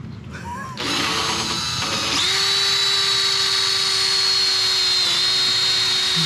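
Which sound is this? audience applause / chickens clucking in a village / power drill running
power drill running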